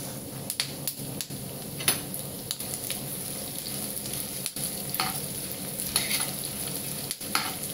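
Chana dal, urad dal and coriander seeds frying in oil in a pan, a continuous close sizzle with scattered spoon scrapes and taps, no talk.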